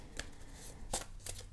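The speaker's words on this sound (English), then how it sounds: "I'm going to shuffle" Playing cards shuffled during a tarot-style card reading, giving three short riffling bursts spaced across the moment, close and fairly quiet, with no talking.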